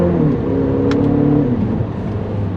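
A 2025 Nissan Murano Platinum with a 2-liter turbo engine accelerating, a loud close cabin drone rising steadily in pitch and then easing off, with no talk.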